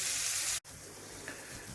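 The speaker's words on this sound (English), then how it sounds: "So we've only been frying them for a matter of 2 minutes and they're really softening up already." Tomatoes fry in a pan with a steady, soft sizzle and hiss, briefly cut off for an instant before resuming, with no talking.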